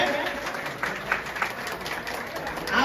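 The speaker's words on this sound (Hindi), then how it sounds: "तालियों पर ग्रहण करें।" A crowd at a political rally applauds with a steady patter of clapping of moderate loudness, continuing through the clip.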